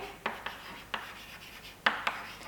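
A pen writes a chemistry formula by hand on paper, with a few quiet separate strokes and taps in a quiet room and no voices.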